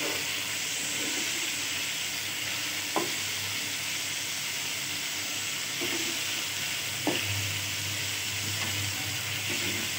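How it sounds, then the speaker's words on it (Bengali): Fish frying in a pan with spices gives a steady, close sizzle and hiss throughout, with a few sharp clinks of a utensil stirring against the pan. "এভাবেই কষতে থাক মাছগুলো"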